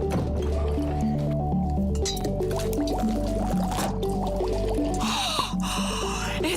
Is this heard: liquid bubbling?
yes